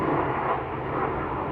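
A Ryanair airliner arriving from Faro at Dublin Airport, a steady broad engine roar that holds constant and fairly loud from start to finish, with no talk over it.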